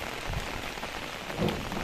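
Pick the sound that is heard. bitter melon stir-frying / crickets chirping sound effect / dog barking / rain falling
rain falling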